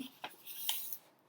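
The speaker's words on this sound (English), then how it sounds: "you take this corner and you fold it down to the bottom" A paper corner is folded down to make an origami cootie catcher, giving a few soft, brief crinkles and rustles close by, with a slightly longer papery swish near the middle and no voices.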